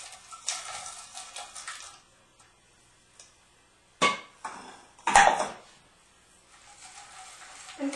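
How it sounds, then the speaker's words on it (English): Spoon scraping and clinking against a pot while melting chopped unsweetened chocolate mixture, a few sharp intermittent taps and scrapes separated by quiet gaps, close and fairly faint. "And kind of just keep stirring this until the mixture gets hot enough."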